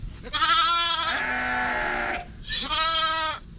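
A lamb bleats loudly and close by in one long wavering cry, then a shorter second bleat after a brief pause.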